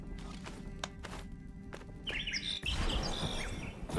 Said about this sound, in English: The bird's still singing, so we got more.